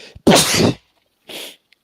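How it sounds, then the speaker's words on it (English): A single loud, close sneeze bursts out, followed by a short, quieter sniff or exhale after a pause. "Sneeze it out."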